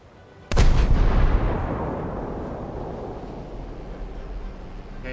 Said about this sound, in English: If I recall correctly, these are the post-war 76mm cannons.